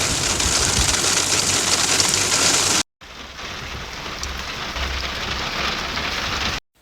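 Steady rain pouring down in a dense, hissing wash, briefly cutting out for a moment before continuing just as heavily.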